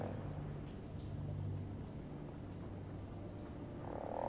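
Video-game night ambience with frogs and insects: a continuous, faint chorus of chirring and croaking calls holds at an even level, with no voices over it.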